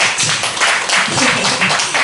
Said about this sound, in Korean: 혼자 박수 치세요